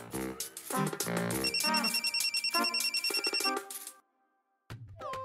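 A telephone rings with a repeating electronic ringtone melody, loud and continuous for about four seconds before cutting off, followed by a brief pause and then a short burst of sound.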